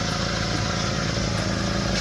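A Suzuki Carry pickup truck engine runs with a leaking exhaust, a steady rough, raspy idle drone heard close and continuous with no talk.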